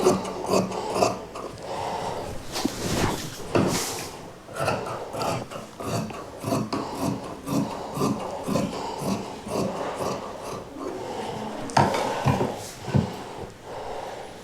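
Scissors cut through fabric for a kurti sleeve, making a long run of rhythmic rasping snips up close, each stroke a short scratchy crunch with brief pauses between cuts.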